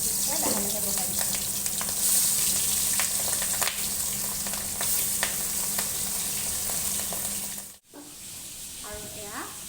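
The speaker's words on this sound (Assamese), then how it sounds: "মই মাছখিনি এতিয়া ভাজি লৈ বনাই গৈ আছোঁ ইয়াতে গৰম হৈছে" Pieces of fish fry in hot oil, giving a continuous loud sizzle with occasional stirring scrapes, then a brief break and softer sizzling near the end.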